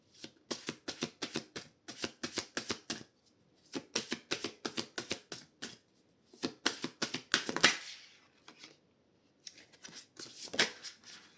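Oracle cards are shuffled for a reading in quick, crisp riffling bursts, each a few seconds long, separated by short pauses and sounding close and clear.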